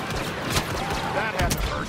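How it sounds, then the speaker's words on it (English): Star Wars Battlefront video game blaster fire comes as a dense, continuous crackle of shots with brief sharp bursts standing out, loud and busy throughout. "Some blaster fire."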